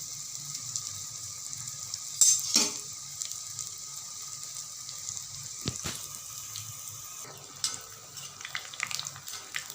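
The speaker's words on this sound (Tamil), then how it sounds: "இப்போ நல்லா பெரட்டி பெரட்டி வறுத்து எடுக்கணும்" Mysore bonda deep-frying in hot oil gives a soft, continuous sizzle close by, with a few light clinks and stirring sounds as the fritters are turned; no speech is heard.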